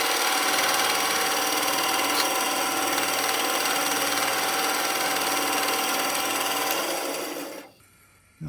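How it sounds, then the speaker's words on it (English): A bandsaw cuts butterfly key slots into a wooden slab, giving a steady, loud broadband rasp that runs continuously for most of the stretch, then cuts off abruptly near the end as the blade leaves the wood. "we're just going to cut those out with the bandsaw like that"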